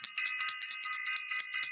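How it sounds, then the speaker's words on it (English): A bell rings in rapid repeated strikes, each tone bright and ringing, the chimes overlapping steadily and moderately loud with nothing else behind them. "We are ringing the bell"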